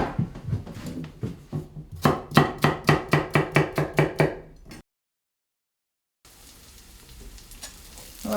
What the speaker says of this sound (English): we'll slice our carrots up